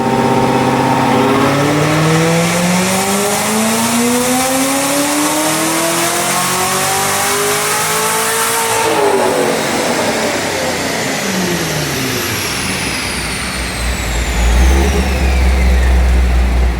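A C7 Corvette Z06 engine roars loud and close on a dyno, rising in a long sustained rev to a peak, then dropping away as the pull ends, with faint whine tones trailing after.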